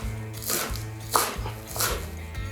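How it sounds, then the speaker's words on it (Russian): A knife chops finely through fresh dill and parsley on a board in a kitchen, a quick steady series of close, crisp taps with no talking. "Теперь пришло время нарубить нашу зеленушку, укропчик и петрушку."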